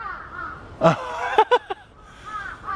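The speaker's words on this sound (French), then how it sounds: "Regardez-moi ces gangs de corbeaux là." Crows caw several times in Japan, near Osaka Castle, with one loud call near the start followed by a quick cluster of three or four sharp caws, set over soft outdoor background noise.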